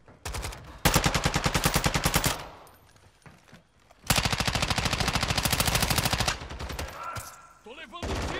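Two long bursts of rapid automatic gunfire in Warzone 2.0 DMZ, loud and close, separated by a quieter gap with a few scattered shots. Brief softer sounds follow at the end.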